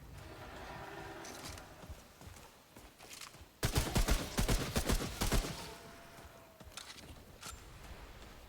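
A burst of rapid gunfire in the video game Remnant, set in a field: a tight cluster of loud, close shots in the middle, surrounded by quieter ambient sound.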